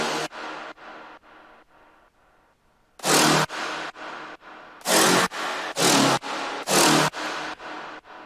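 Synth stabs from an electronic track hit in a rapid rhythmic series, first a fading run of softer repeats, then louder bright chords returning in a steady pattern with some stronger accents, alone with no voices.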